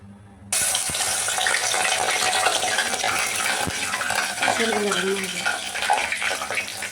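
Mutton fries with spices in hot, spattering oil, making a loud and dense close sizzle with stirring noise throughout, after a short quiet start; a voice rises faintly in the background partway through.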